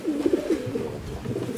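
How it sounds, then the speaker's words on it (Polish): A breeding pigeon coos nearby in a loft, a few soft, rolling low calls repeating in quick succession. "Ten jest typowy gołąb rozpłodowy, nie?"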